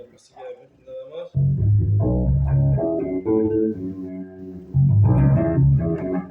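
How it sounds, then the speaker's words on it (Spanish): Hohner B Bass V five-string electric bass played through only its front pickup, a brief pluck first, then a run of warm, loud, close low notes after a second or so and a final louder phrase near the end, no talking. "La pastilla de frente nada más."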